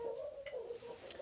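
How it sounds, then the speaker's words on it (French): A pigeon at an animal shelter gives a brief, soft, low coo with a quiet chirp at the end, faint and alone. "c'est les 2 pigeons."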